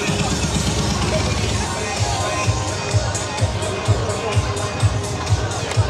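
Large crowd gathered at a Liberty Walk car meet inside Ayala Malls Manila Bay, a dense indoor hubbub of many voices, with rhythmic thumping beats emerging in the second half and a person speaking nearby.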